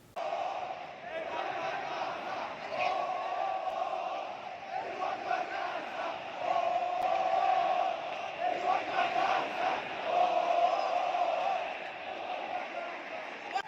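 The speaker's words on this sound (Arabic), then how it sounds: "طبعا بدأنا هتافات، وكان اول هتاف للجعان." Zamalek football fans chant together in a crowd at the stadium before a match against Al Ahly, a sustained roar of many voices with rhythmic swells, heard from inside the crowd at moderate loudness.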